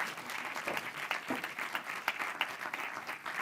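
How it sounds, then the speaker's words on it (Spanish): A conference audience at a debate panel applauds for Amanda, a fairly quiet, steady patter of many hands clapping at a moderate distance, lasting a few seconds. "Un aplauso para Amanda, por favor."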